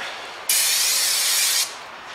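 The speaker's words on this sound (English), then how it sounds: "more brake cleaner for you" Brake cleaner hisses from an aerosol can onto car brake parts, a single steady spray burst lasting about a second, close and fairly loud, with no talking.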